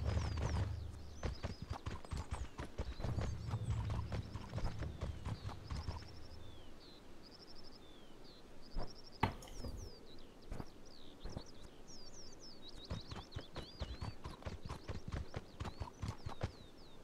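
Steady hoof clip-clops from a horse walking close by in the video game Mortal Online, with birds chirping throughout and a brief whinny partway through.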